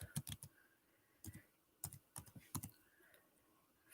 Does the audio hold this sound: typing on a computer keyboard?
yes